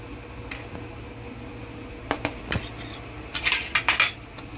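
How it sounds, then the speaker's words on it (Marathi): Cornflour and maida being stirred together for chicken lollipop batter, giving soft scraping and a few sharp clinks of a spoon against a bowl, sparse at first and then busier near the end. "मिक्स करून घेऊया. चांगल्या प्रकारे एकदम एक जीव करून घ्या सगळं."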